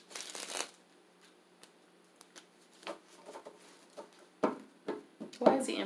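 Tarot cards are shuffled in short, crisp riffling bursts with quieter slides and taps between them, close to the microphone in a quiet room.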